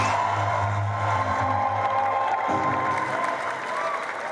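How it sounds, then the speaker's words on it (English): An audience at a wealth summit claps and cheers to welcome a pastor, a busy crowd roar with a low sustained hum underneath, loud and steady, a brief change midway. "Please keep clapping."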